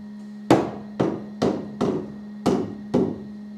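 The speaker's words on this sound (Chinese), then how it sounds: "木匠师傅钉这个钉子啊" A carpenter drives nails at an angle into wooden floorboards of a wooden house, six sharp, evenly spaced hammer blows ringing over a faint steady hum.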